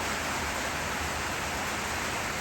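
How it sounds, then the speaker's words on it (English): Steady rain falls at a rural spot near the Pedernales in Texas, making a soft, even hiss of drops with no break and no voices. "I think they got it predicted to rain all night and all day tomorrow."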